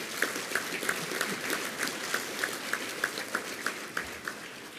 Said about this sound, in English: Please give them a hand to cheer them on.